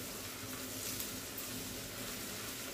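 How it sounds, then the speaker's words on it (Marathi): Onion sautés in a pan for Malvani prawn rice, a steady soft sizzle and crackle that stays even and fairly faint throughout, with no voices. "कांदा घालून आपल्याला 2-3 मिनिटं चांगलं परतवून घ्यायचंय"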